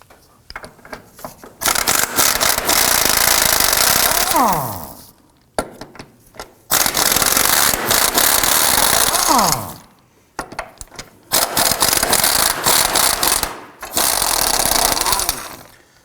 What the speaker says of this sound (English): we're going to use our 19mm socket, loosen and remove this nut